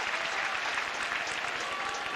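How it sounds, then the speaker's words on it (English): Tennis crowd at the 1995 Roland Garros fourth-round match between Chang and Stich applauding steadily, a dense continuous wash of clapping throughout with no talk over it. "And listen to the crowd now go for Stich."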